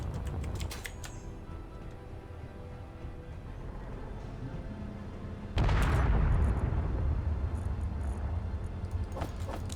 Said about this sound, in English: It says Mayday, and then I hear an explosion